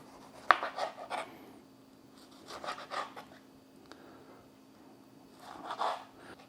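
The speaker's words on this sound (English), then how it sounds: "I'm going to go ahead and cut the tomatoes right now" Tomatoes being sliced with a knife on a board, a few soft separate cutting strokes and scrapes in short clusters, close and quiet with pauses between.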